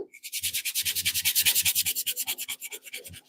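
Wooden box being hand-sanded with fine-grit paper, producing rapid, regular back-and-forth rasping strokes, close and fairly loud, about a dozen quick passes that slow and soften toward the end, with no talking.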